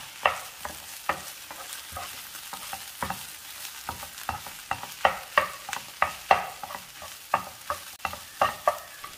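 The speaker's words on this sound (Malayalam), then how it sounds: "ഇനി മുരിങ്ങക്കായും മുട്ട എല്ലാം കൂടെ ഒന്ന് ചേർത്ത് ഇളക്കാം." Drumstick and egg thoran stirred in a pan, a steady run of sharp scraping spoon strokes with light sizzling underneath, close and fairly loud, no voices.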